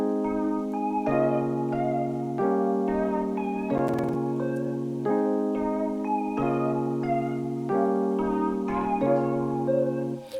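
Klevgrand ELPIANO electric piano plugin plays a lead line of bright, sustained tones in a repeating pattern of held notes, steady and moderately loud with no voices.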